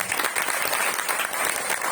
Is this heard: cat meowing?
no